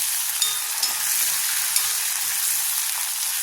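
Curry leaves and dal roasting in a hot pan give a loud, constant sizzle and hiss with a few small pops, close up and heard alone without talk.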